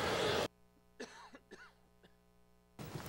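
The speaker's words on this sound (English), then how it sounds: "about ready to cough here" Indoors, a few short coughs and throat-clearing bursts from a single person, fairly close and alone between loud bursts of noise at the start and end.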